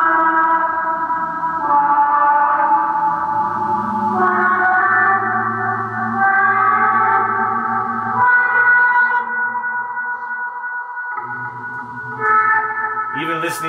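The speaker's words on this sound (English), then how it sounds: "I got some crazy delay and reverb on it" A sustained tonal sample on an MPC Studio drenched in heavy delay and reverb, its echoing layers smearing and repeating as the pitch shifts, loud and alone.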